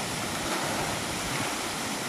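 Two Bunyip water pumps run together off a single supply pipe carrying about 5 liters a second, one pushing to a 60-meter head with many small strokes; a steady, dense rushing of water fills the whole stretch without pause.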